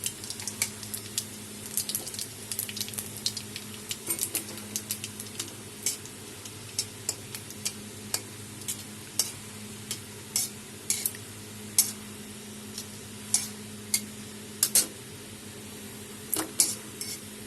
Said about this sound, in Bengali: তেল গরম হয়ে গেছে, এখানে দিয়ে দিচ্ছি একটা শুকনো লঙ্কা, অল্প কালো জিরা